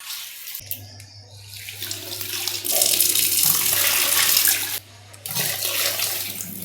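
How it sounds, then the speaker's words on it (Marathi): Running tap water splashes over half a kilo of raw chicken being washed in a kitchen, the stream starting, swelling loudly, pausing briefly and resuming. "मी इथं अर्धा किलो चिकन घेतलेलं आहे, तर हे स्वच्छ धुवून घेऊया आधी"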